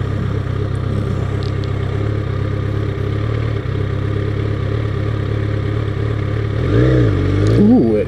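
A steady 2006 Yamaha FZ1 motorcycle engine drones throughout, then revs up sharply near the end with a rising, throaty whine.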